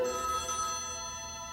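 A telephone rings in a 1980s setting, a steady electronic ringtone heard alone and fairly close, slowly fading as it continues.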